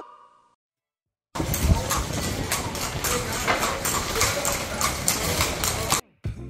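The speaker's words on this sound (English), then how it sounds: "these carriages are still pulled by horses" Horses pulling tourist carriages through the streets of Cartagena's walled historic center, hooves clip-clopping in a steady, close rhythm over continuous street noise after a brief quiet start.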